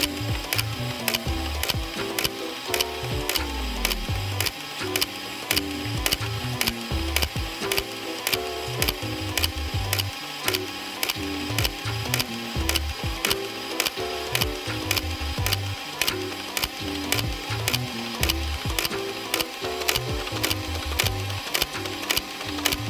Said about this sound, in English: And now we are just gonna full auto unload all 72 darts